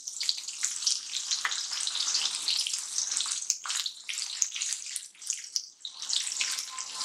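Garlic and a pinch of asafoetida fry in hot oil, a close, bright sizzle and spatter that rises and dips in bursts without any speech.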